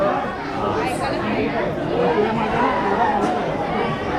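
A crowd chatters at a temple festival ceremony in Dadar, Mumbai, a dense, continuous murmur of many overlapping voices, close and loud throughout.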